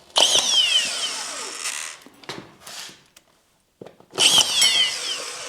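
A power drill drives a screw into a drywall sheet held against a ceiling over an ICF wall, with two loud whining bursts separated by a short pause and a quieter stutter in between.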